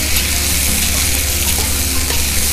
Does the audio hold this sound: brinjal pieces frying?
yes